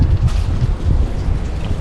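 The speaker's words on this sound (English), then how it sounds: "the wind gusts hitting me as I step out from behind buildings" Wind gusts buffeting a microphone between buildings in Bar Harbor, Maine, in December: a loud, low, continuous rumbling roar with fluttering bursts and no voices.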